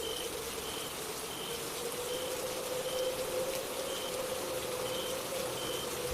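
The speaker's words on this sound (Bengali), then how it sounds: "বৃষ্টি শুরু হয়ে গেল তো" Rain starting to fall in the evening at a riverside village in an animated Bengali horror story, a steady moderate patter and hiss with a faint insect-like trill and a repeating high chirp, with no talk.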